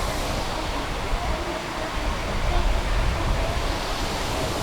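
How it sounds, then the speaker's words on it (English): A Disneyland waterfall pouring steadily nearby, a broad continuous rushing wash with slight swells, loud and unbroken. "Oh, look at the waterfalls."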